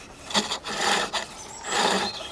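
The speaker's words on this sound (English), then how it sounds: "Hopefully that shows you how to use the tip of the skew chisel." A skew chisel tip scrapes out a groove in wood spinning on a lathe, producing soft, close rasping swishes in two or three short passes.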